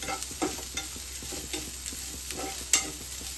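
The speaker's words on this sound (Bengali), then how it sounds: "ফ্লেম হাই করে ঘি দিয়ে মাংসটা ভালো করে একটু রোস্ট করে নেবো" Chicken meat roasting in ghee over a high flame, a steady close sizzle with repeated stirring scrapes and a sharper clack near the end, no voices.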